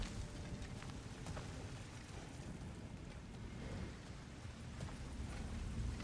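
Storm in the withered desert wasteland of Alfheim in God of War Ragnarök: a steady, faint roar of wind and rushing noise that holds constant throughout with no voices.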